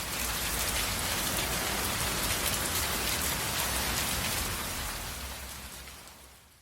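Heavy rain pours steadily during a November storm in the Winooski River valley, a loud, dense hiss of drops that holds even before fading out over the last two seconds.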